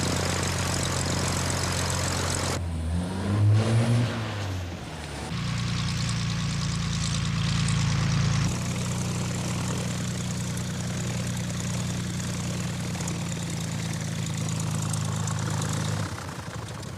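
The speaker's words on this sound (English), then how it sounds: "They're going off in a private aircraft." A private propeller aircraft engine runs at a steady idle-like drone, with a brief shift in pitch early on before settling into a continuous, moderately loud hum that holds until near the end.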